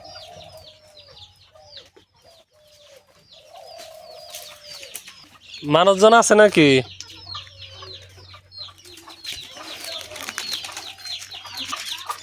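Chickens and pigeons around a rural village house yard, with sparse bird calls through the scene and one loud, close burst of harsh squawking in the middle; someone speaks briefly.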